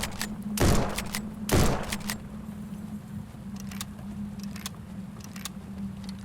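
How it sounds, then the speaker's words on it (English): Rifle fire in The Bleakest Keep, a survival roguelike video game, comes as two sharp, loud shots about a second apart, followed by lighter clicks and thuds over a steady low hum. "So now we can actually start just like shooting the enemies."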